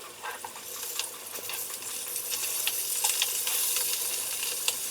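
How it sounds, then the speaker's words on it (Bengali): Hilsa fish pieces fry in a pan with a continuous crackling sizzle that grows slightly louder, as a spatula turns them with soft scrapes and clinks, close up and without talking. "এপিট ওপিট করে ভালো করে ভেজে নেব।"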